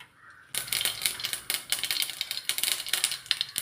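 Mustard seeds pop and splutter in hot oil in a heated pan cooker, a dense run of sharp crackles starting abruptly and continuing loud and close throughout.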